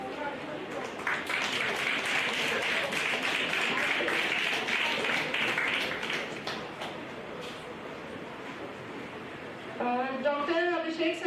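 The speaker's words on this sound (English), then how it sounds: "Please join me in extending a warm round of applause as I invite Dr. Abhishek Dwivedi sir to podium to deliver his lecture." Lecture audience in an anatomy hall applauds the introduction of a lecturer, with steady dense clapping that swells then tapers off, ending as a voice speaks over the fading applause.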